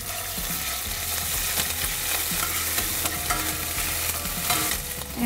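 Green chili and ginger paste frying in oil, a dense, continuous sizzle that stays loud and close throughout, with faint stirring scrapes underneath.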